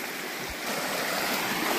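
Rough river water rushes steadily at a crossing in St. Ann, Jamaica, a loud, continuous broadband roar of churning current, close by and unbroken, with no voices over it.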